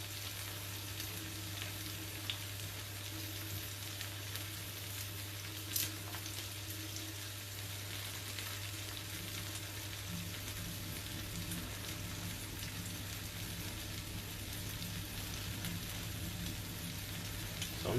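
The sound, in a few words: fish fillets frying in a pan on low heat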